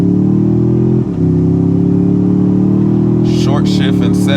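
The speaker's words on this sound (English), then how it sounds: "I'm gonna do a quick acceleration run while we sit here." A Toyota Tundra TRD Pro pickup truck's engine gives a loud, close, steady low drone with a brief dip early on, and a voice briefly joins near the end.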